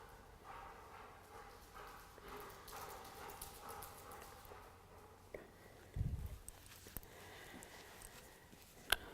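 A police K9 dog moves through an indoor room while searching and clearing it, its paws giving faint, scattered steps on the floor, with a brief thump partway through in an otherwise quiet space.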